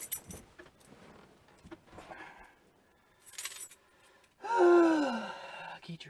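Keys jangling in an Allegro RV during a dashboard upgrade, with faint soft clinks early on, then a loud close metallic jingle near the end before it fades.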